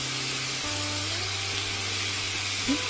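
Ginger paste and cumin sizzle in a hot pan, a steady, soft frying hiss that holds evenly throughout with a faint low hum beneath it.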